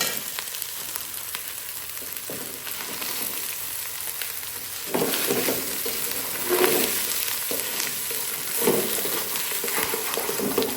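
Mutton masala frying in oil sizzles steadily in a pan, broken by occasional stirring scrapes and clatters that grow a bit louder midway.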